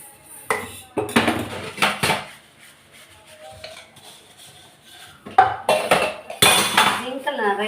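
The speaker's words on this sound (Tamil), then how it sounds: "இப்போ நான் ஜிங்கில் இருக்க பாத்திரம் மட்டும்தான் வாஷ் பண்ணுறேன்." Dishes being washed in a small kitchen sink: pots, plates and cutlery clatter and clink in irregular bursts, with water sloshing and quieter gaps between the louder clusters of knocks.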